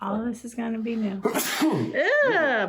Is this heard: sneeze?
yes